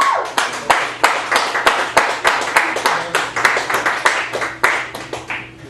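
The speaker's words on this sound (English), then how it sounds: "I fear that I clap really loud." An audience claps for a performer, a lively burst of close, sharp handclaps in an uneven patter that holds steady for several seconds with a few loud individual claps standing out.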